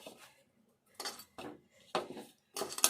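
Dough for jaggery madatha kaja being mixed by hand in a bowl, soft irregular scraping and clinking bursts separated by short pauses, close and fairly quiet.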